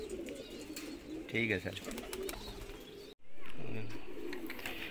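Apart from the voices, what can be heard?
Shirazi pigeons cooing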